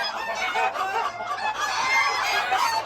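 Ornamental chickens cluck busily alongside an agitated rooster of a hardy breed, a close, continuous mix of clucks and squawks with no talking.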